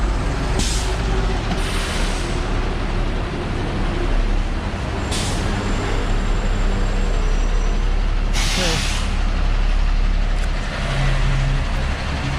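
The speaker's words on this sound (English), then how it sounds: "pretty typical buses to the right, like that green one right there, 10A" City buses on a busy Macau street at night let out several sharp air brake hisses over a constant low traffic rumble.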